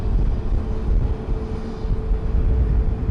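Cape Air airplane on the runway at San Juan's Luis Muñoz Marín International Airport, a low steady engine rumble heard from a distance, continuous with no voices.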